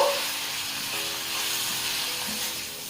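Red chilli powder and other ground spices frying in oil while being stirred for an egg dish, a steady soft sizzle and hiss with faint scraping from the stirring, heard alone without speech.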